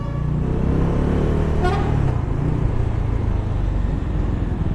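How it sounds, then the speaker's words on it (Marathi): Dense road traffic on a congested highway stretch near Karad with roadworks underway, a steady loud rumble of engines throughout and a brief car horn toot partway through. "आणि कराडमध्ये पण काय ट्रॅफिक आहे, कारण रस्ता जो बनत आहे त्यामुळे खूपच ट्रॅफिक आहे इथं"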